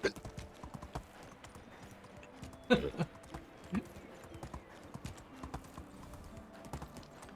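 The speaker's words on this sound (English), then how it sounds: "the horse can still ride in a straight path" A horse's hooves clip-clop at a steady pace while it is ridden in the Medieval Dynasty video game, fairly faint under a talking voice.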